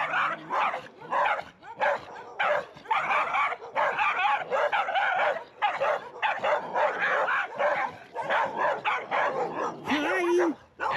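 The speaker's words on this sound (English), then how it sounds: "Look at these cute dogs. They're so little." Several small dogs bark and yip in quick, busy bursts close by during a neighborhood walk in a barrio in southern Sutiava, Nicaragua, with a brief whimper near the end.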